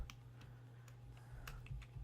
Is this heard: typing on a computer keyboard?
yes